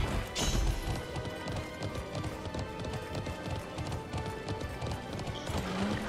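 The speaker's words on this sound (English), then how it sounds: "And my horse is fast now." Rapid galloping hoofbeats from a horse in the online game Alicia Online thud in a steady rhythm under game music and effects, with a brief whinny and a crash near the start.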